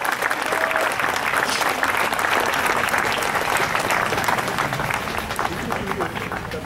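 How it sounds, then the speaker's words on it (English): A crowd at a Black Lives Matter protest in Twinsburg, Ohio bursts into sustained applause, dense clapping mixed with scattered voices and crowd babble, loud and unbroken for several seconds. "Come on, give him a round of applause."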